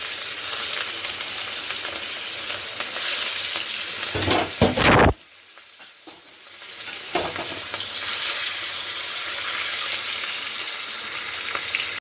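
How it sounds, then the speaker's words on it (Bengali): Fish frying in hot mustard oil for a green-chilli fish curry gives a loud, steady sizzle up close. It breaks off with a clatter near the middle, then the crackle returns and carries on to the end. "আমি তেলটা গরম হয়েছে আমি মাছটাকে ভেজে নিচ্ছি"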